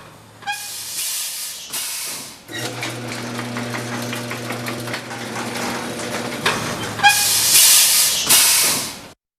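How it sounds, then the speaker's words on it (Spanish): A steam-engine crane runs with sharp, loud bursts of hissing steam at the start and end and a steady chugging, rattling mechanical rumble between them, heard up close. "la máquina se sacudió lentamente y el vapor salió silbando"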